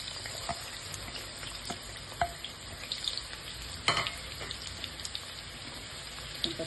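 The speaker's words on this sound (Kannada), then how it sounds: "ಸ್ವಲ್ಪ ಚೆನ್ನಾಗಿ ಫ್ರೈ ಮಾಡ್ಕೊಳ್ಳೋಣ" Chopped onion frying in hot oil for chilli garlic prawns, a steady soft sizzle with scattered crackles and pops, a couple of sharper spatters standing out, with no voices.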